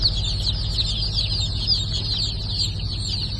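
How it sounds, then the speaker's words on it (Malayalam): Native Thalassery chicks at a hatchery keep up a dense, continuous chorus of high, thin peeping chirps, close and with no talking. "തലശ്ശേരി നാടൻ അടയിരിക്കുന്ന തലശ്ശേരി നാടൻ കോഴിക്കുഞ്ഞുങ്ങളാണ്"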